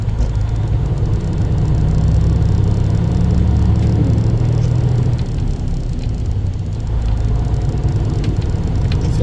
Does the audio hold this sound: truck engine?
yes